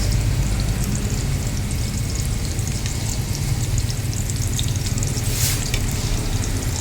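Ginger and onion sautéing in a pan for miso sinigang with milkfish, a steady dense sizzle and crackle, loud and close, continuous throughout with no voices.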